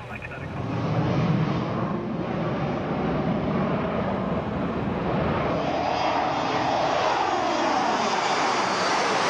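A steady, loud airplane engine drone fills the cabin during a long flight, an unbroken broadband roar that swells slightly early on and then holds even.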